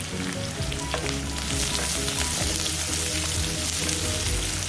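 Cashew nuts fry in a pan with curry leaves for coconut rice, a dense, close, steady sizzle with crackles throughout.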